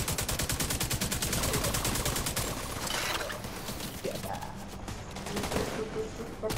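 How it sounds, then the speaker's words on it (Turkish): Rapid machine-gun turret fire in The Division 2, a dense run of sharp bursts filling the first three seconds, then quieter scattered shots and in-game sounds with some faint voice activity. "Turret var ortaya atıyorum hepsini tarıyor."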